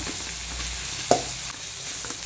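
Gram flour is stirred into a capsicum curry in a pan, with a soft steady sizzle of frying and the quiet scrape of a spoon, plus one sharper clink partway through.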